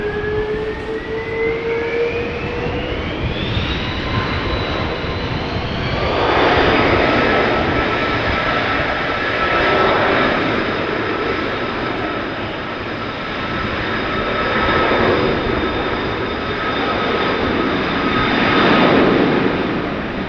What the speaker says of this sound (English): Transavia Sunweb livery also coming this way